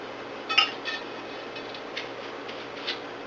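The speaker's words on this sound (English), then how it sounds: "I'm going to put the lid on it." A metal lid set onto a pot of simmering greens in a home kitchen, giving a brief clink and rattle at first, then a few faint small taps against quiet background hum.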